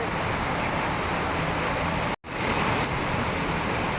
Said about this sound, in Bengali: বাইরে ভীষণ বৃষ্টি ভীষণ বৃষ্টি যা বৃষ্টি পড়ছে